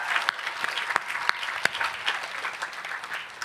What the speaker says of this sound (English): Please give yourself a celebratory round of applause.